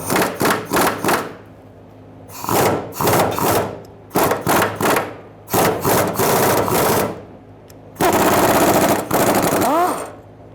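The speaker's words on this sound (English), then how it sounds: "Using a 13mm socket and an extension, I'm gonna loosen my bolts for the straps." A ratcheting 13mm socket with an extension loosens the fuel tank strap bolts on a 2000-2007 Ford Taurus 3.0L V6, loud rapid clicking bursts repeating in short runs with brief pauses between.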